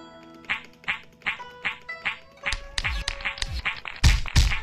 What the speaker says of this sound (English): Ah, that's my alarm clock.